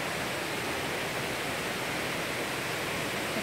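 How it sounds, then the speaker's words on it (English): Monthathan Waterfall in the jungle near Chiang Mai, Thailand, sends out a continuous hiss of rushing water, even and unbroken, moderately faint as if heard from a short distance. "You can hear the water."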